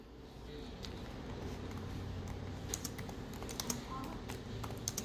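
Keyboard typing in a computer tutorial setting, a steady run of light, quick key clicks with a few sharper taps, fairly faint against a constant background hum.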